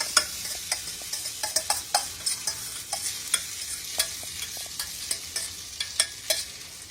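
Egg and Maggi noodles are stirred in a sizzling pan, a utensil scraping and tapping in a loose, busy rhythm over a constant frying hiss, close and moderately loud.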